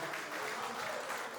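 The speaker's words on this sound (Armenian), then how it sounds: "Հարութից որդու համար ծափարեք, ժողովուրդ ջան, շատ բարձր" A crowd claps loudly and steadily for Harut's son at Harut Voskanyan's birthday celebration, a dense burst of applause close by with no voices over it.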